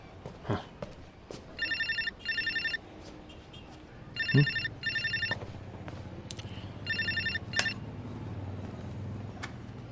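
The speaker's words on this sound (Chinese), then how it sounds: "齐长荣，你终于肯接电话了。" A telephone rings in repeated electronic bursts, pairs of trilling rings separated by pauses, over a quiet background with occasional soft knocks and movement sounds.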